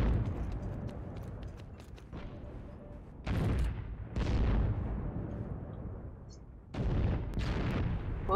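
Gunfire in a shooter video game: bursts of shots and booming reports come in clusters, loud and close, with quieter rumbling between volleys.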